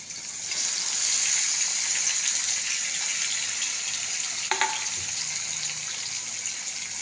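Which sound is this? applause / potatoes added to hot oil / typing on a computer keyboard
potatoes added to hot oil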